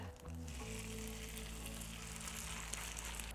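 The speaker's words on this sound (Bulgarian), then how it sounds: "Разнасям хубаво да се нагрее мазнината и мога да изсипя готовата вече смес." A potato mixture hits hot butter and oil in a 24 cm frying pan, setting off a steady, hissing sizzle that stays loud and constant throughout under a low hum, with no talking.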